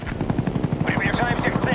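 Huey helicopter arriving in Call of Duty: Black Ops team deathmatch, its rotor thumping in a steady rapid beat through the whole stretch, mixed with game noise and a voice over the top.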